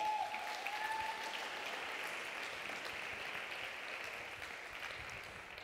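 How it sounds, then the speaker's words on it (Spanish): A church congregation applauds during a sermon, with steady, even clapping from many people that stays fairly distant and soft, tapering slightly toward the end. "Dale un aplauso a Jesús."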